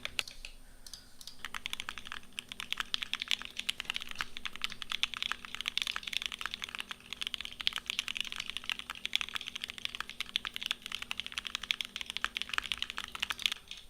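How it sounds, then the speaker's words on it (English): Fast, continuous typing on a GMK Pro mechanical keyboard, a dense run of close clacking keystrokes under a faint steady hum, with no talking. "Look at me and tell me the GMK Pro sounds good."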